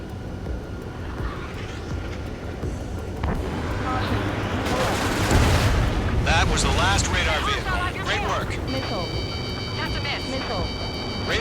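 Missile launches and explosions during aerial combat in the Ace Combat 7: Skies Unknown video game, a rising roar and rumbling burst with jet engine noise, under radio chatter and game tones.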